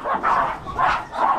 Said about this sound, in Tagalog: Doon ang aso.